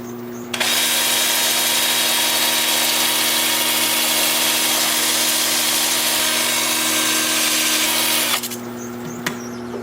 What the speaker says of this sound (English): I'm gonna start with 80 grit 2-inch disc sander.